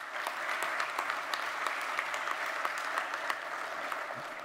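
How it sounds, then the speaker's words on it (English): A conference audience applauds for a speaker, a dense, sustained wash of many hands clapping at once from a large room, steady in loudness throughout with no voices over it. "Dr. Paroda, who deserves an applause"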